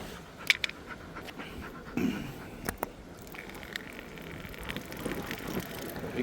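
A dog pants and laps at water during a windy walk along a coastal cycle way. Soft lapping and squishing sounds mix with faint breathing and the odd click against low outdoor background noise, with no voices.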